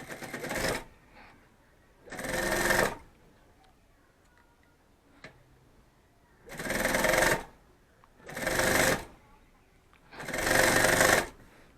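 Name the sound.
sewing machine stitching a bag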